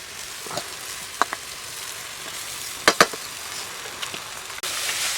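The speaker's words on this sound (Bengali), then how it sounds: "এবারে চিড়েটা ঢেলে দেবো, ভিজানো চিড়ে" Soaked flattened rice tipped into a pan of fried potatoes and onions, giving a steady close sizzle with a few sharp clatters and scraping stirs, and a louder surge of frying near the end.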